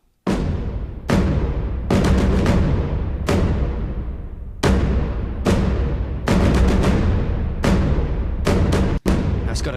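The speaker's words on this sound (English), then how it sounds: "So this here's the taiko ensemble." Hans Zimmer Percussion taiko ensemble playing alone: a series of huge, wide drum hits in an irregular rhythm, each booming strike followed by a long decaying reverb tail, with a few quick flams between.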